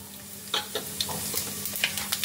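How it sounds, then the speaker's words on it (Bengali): Whole cumin seeds dropped into hot oil in a pan while making a Bengali potato dum, giving a steady close sizzle with several short crackling pops scattered throughout and no talking. "প্রথমে আমি তেলের মধ্যে দিয়ে দিচ্ছি গোটা জিরে"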